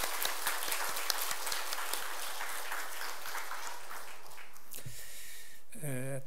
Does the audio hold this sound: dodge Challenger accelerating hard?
no